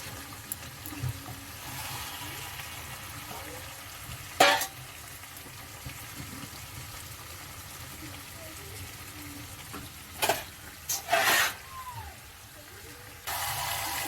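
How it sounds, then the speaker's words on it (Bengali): Meat sautéing with spices in a pan gives a steady, close sizzle throughout, broken by a few short clatters from stirring. "এরকমই মশলা কষিয়ে এরকমই মাংসটা রান্না করি"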